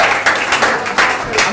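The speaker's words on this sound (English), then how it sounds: "Dear Matilda, give her a big round of applause, ladies and gentlemen." A pub audience at a live show claps for a performer, bursts of hand applause swelling and easing over a short moment.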